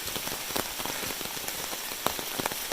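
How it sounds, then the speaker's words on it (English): Rain falls steadily around a hiker on the Appalachian Trail, a dense close patter of drops striking surfaces, likely an umbrella, with scattered louder individual hits. "Rain today."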